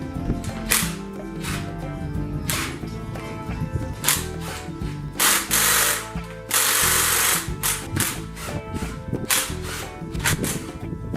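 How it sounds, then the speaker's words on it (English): A power tool removes intake manifold bolts from a Honda Del Sol engine during teardown, giving repeated short bursts of rattling, whirring impact with brief pauses between bolts, close and fairly loud. "10 of those intake manifold bolts, so I'll go ahead and remove those now."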